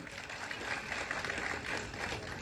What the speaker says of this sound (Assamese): এটা হাত চাপৰি হ'ব লাগে